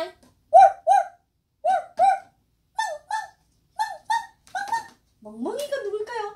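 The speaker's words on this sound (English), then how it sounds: "I'm a dog. Dog, dog, dog." Bark sounds from a children's picture book come in quick paired yaps, repeated about five times with short gaps, then a longer whining call at the end.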